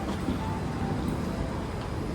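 MRT train at City Hall station in Singapore, a steady low rumble of rolling carriages heard from close by, continuous with no clear breaks.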